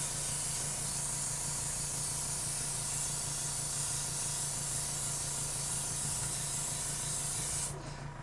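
An airbrush sprays craft paint onto a stainless steel tumbler in a steady, close hiss that holds evenly for several seconds before easing off at the end, with no talk.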